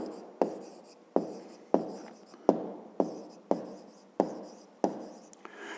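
A pen scratching on paper in short repeated strokes, roughly one every half second to second, each with a sharp start that fades, close and alone.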